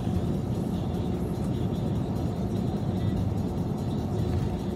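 A newest-generation Toyota Crown passes on the road, heard as a steady, loud low rumble of engine and tyre noise that holds fairly even throughout.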